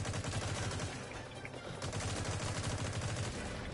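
Rapid automatic gunfire in the online shooter Metal Gear Online 3, dense repeated bursts running almost continuously at moderate loudness, with faint voices under it.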